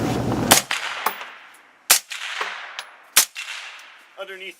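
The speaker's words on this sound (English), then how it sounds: "this is supersonic ammunition still. You still hear the crack." Suppressed rifle shots firing supersonic ammunition outdoors, three sharp cracking reports spaced about a second apart, each ringing briefly with a metallic tail, followed by a faint clink.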